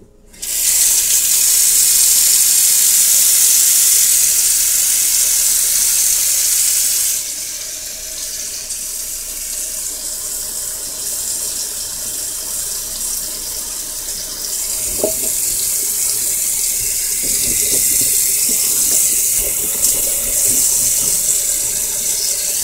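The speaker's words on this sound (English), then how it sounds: "let the water drain, fill the sink up again, very carefully" A kitchen tap runs steadily into a sink to rinse potatoes, a loud, continuous gush of water that eases a little after several seconds and picks up again near the end, with no talking.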